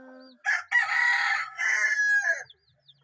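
A rooster crows once, loud and close, a long harmonic cock-a-doodle-doo ending in a drawn-out tail, near hens and chicks, with quiet surroundings before and after.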